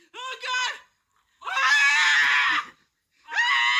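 A man screams in fright during a Walking Dead–themed prank, giving three loud, close, strained bursts: two quick yelps and then a long sustained shriek, separated by brief silences.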